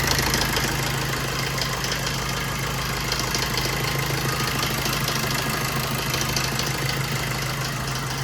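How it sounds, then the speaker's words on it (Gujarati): A 2013 Maruti Suzuki Ritz diesel engine idles with a steady, close, low rumble and a faint knocking clatter, running alone without any voices. "તમે જોઈ શકો છો ડીઝલ એન્જિનનો અવાજ કંઈક અલગ જ આવે."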